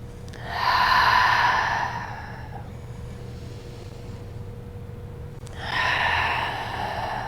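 Slow, deliberate breaths during a hatha yoga sequence, a loud airy inhale or exhale lasting about two seconds, then a quiet pause, then another breath starting, close and alone with no talk.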